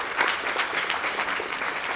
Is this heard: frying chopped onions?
no